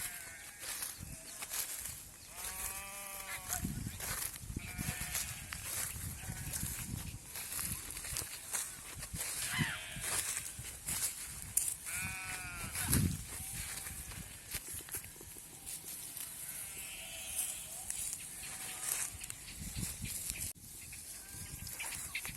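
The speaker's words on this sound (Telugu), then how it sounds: "కోత కోసిన తర్వాత మిగిలిన వరి కొయ్యలను గొర్రెలు మేస్తున్నాయి." Sheep grazing on harvested paddy stubble bleat several times at intervals over a soft background of shuffling steps and rustling, moderately near.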